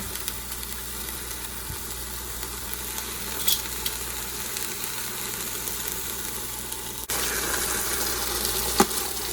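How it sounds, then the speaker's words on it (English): Steady crackling sizzle of carnitas pork frying in a pan, continuous and close, with a brief clatter of utensils and a slight rise in intensity near the end. "Wow, look at that sizzle."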